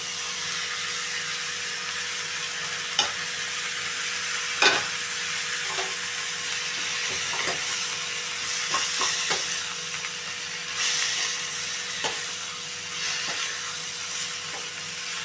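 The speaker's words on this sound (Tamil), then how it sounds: "எல்லாம் நல்லா வதங்கட்டும்" Tomatoes and salt sauté in a pan for a spicy Tamil chutney, giving a steady bright sizzle with occasional soft scrapes and taps of a stirring spoon.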